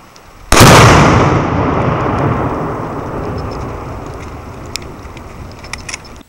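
A Gryphon Energetics explosive target detonates with a single sudden, very loud blast close by, followed by a long rolling rumble that echoes and slowly fades over several seconds.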